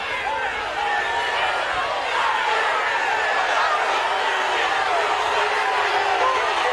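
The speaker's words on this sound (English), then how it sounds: "They start chanting and cheering." Large rally crowd roaring and cheering in a broad, sustained wash of many voices, swelling slightly after the first second and carrying on steadily, with talk faintly under it.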